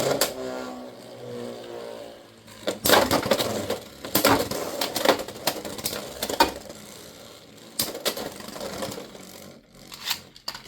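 Beyblade X spinning tops clatter and collide in a stadium at a tournament, producing bursts of sharp metallic clashes and scraping grinds, interspersed with a steady whirring spin, close and moderately loud.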